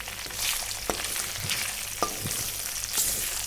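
Chicken and curry leaves sizzle in hot oil with turmeric for a chicken pickle, a steady frying hiss over medium flame with a few sharp stirring clicks, close and alone.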